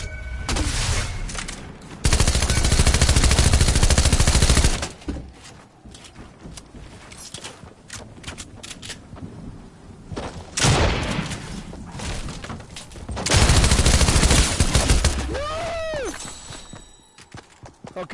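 Gunfire in the video game GTA 5: heavy bursts of shots come in loud, dense volleys with quieter gaps between them, alongside other game noise and a brief rising whistle-like tone near the end.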